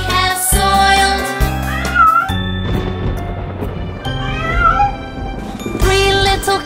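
Sung nursery-rhyme meows over a musical backing, a voice imitating a cat in several drawn-out, pitched cries that are loud and close.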